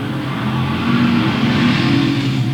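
Street stock race cars roar around the Louisville Motor Speedway oval on the final lap, a dense, continuous engine drone heard from a distance with no break.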